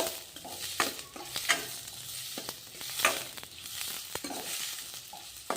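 Chopped onions frying in hot oil for an onion chutney, with a steady sizzle under repeated scraping stirs of a spoon against the pan. The cooking sounds are close and carry on without talk.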